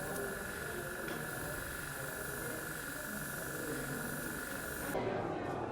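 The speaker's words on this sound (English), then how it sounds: "I'm just spraying these metallic panels." Steady hissing paint spray onto metallic panels runs continuously, close and fairly loud, with a faint tonal whine beneath it, cutting off abruptly near the end.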